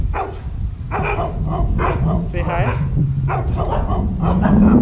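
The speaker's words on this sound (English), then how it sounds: "a bunch of dogs." A bunch of dogs at the end of a residential street lined with multi-unit condominium buildings bark repeatedly in short bursts, close by, while a person talks over them.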